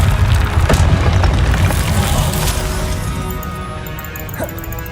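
An Incendio fire spell in Hogwarts Legacy bursts with a loud, close whoosh and crackle, then slowly fades out over several seconds.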